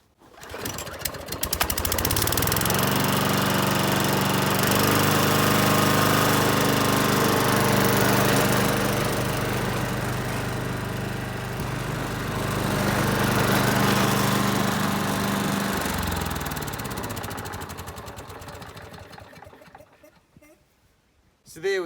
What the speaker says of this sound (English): a lawnmower picked up off the side of the road